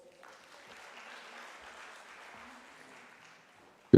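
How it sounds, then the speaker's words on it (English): Moderate applause from an audience greeting a speaker at a World Skills South Africa event, a soft, even patter of clapping that fades out before a sudden loud bump at the very end. "Please, let's give him a round of applause."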